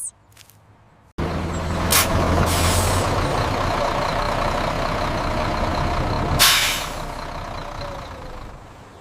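A bus lets out a loud, sustained hiss of air brakes that lasts several seconds, with a sharper burst of release near the end, close by and alone.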